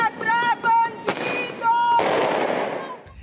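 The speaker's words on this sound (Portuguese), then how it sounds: "Elas soltaram fogos de artifício em frente à PF." Fireworks set off by a crowd celebrating arrests outside the Federal Police building, a burst of loud crackling and bangs with whistling tones, heard amid crowd noise.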